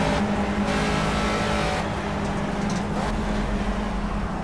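Caterham Academy race car engine in the Project Cars racing game, a steady droning growl that holds at a moderate level throughout, with no voices.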